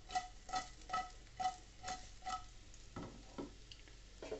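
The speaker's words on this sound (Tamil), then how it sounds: "இந்த மசாலாலாம் வாழைக்காயில் பிடிக்கிற வரைக்கும் கொஞ்ச நேரம் ஃப்ரை பண்ணலாம்." Raw banana slices coated in masala frying in a pan, with a series of soft, regular scraping stir strokes over a faint, low sizzle, fairly close and quiet, no talking.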